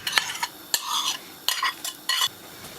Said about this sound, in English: stir in the cornstarch slurry, and keep stirring that and it'll thicken up